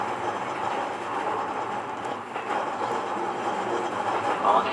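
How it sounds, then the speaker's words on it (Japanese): A Seibu line express train runs along the rails with a steady, continuous rolling rumble and wheel noise, fairly loud and close throughout, with no voices. "This is the express train bound for 池袋。"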